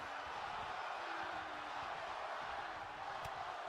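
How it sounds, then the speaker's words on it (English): A roaring arena crowd in the wrestling video game WWE 2K25 gives off a steady, broad murmur and cheer at moderate level, a continuous wash of noise without distinct words. "What a raucous crowd here tonight."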